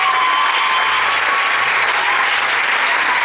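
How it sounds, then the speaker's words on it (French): Audience applause for Gisèle, a choir singer at a Christian concert, fills the clip as steady, dense clapping from a full room, held at an even level with no pause or build. "Est-ce qu'on peut donner une acclamation pour notre sœur Gisèle?"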